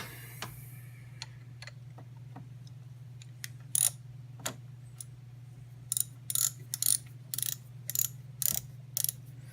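A bolt being threaded by hand during installation of an alternator on a Honda Goldwing GL1800 motorcycle, with scattered quiet metallic clicks and ticks that become louder, sharper ratchet-like bursts in the second half, over a steady low hum.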